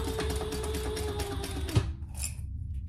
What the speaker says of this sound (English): It's the things that we get used to when we're sewing that we like the sound of.